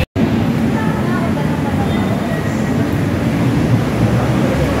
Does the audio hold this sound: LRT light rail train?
yes